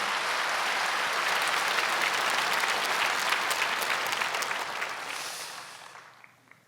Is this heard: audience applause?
yes